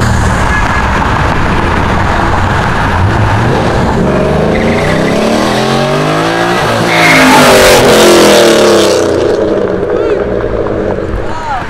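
A Chevrolet Camaro drives past with its engine revving, swelling loudly as it passes close and then fading, over constant road noise, with someone talking.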